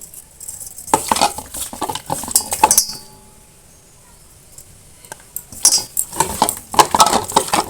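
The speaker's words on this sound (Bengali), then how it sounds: "এবার এর মধ্যে আমি পরিমাণ মতো লবণ হলুদ গুঁড়ো আর সামান্য একটু তেল দিয়ে মাখিয়ে নেব" Washed rice being hand-mixed with salt, turmeric powder and a little oil for a chicken biryani, giving repeated soft clinks and scrapes against a metal bowl in two busy bursts separated by a quiet pause.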